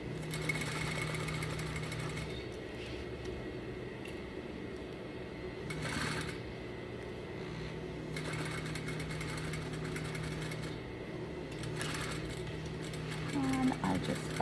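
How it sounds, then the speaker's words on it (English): A sewing machine back stitches the end of a seam on a double welt pocket, its fast mechanical whirr running in short bursts with pauses between them, fairly quiet and close. "And I just back stitch to secure the end of my seam."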